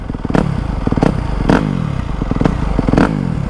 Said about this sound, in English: But yeah, it looks good, sounds good. Brand new exhaust.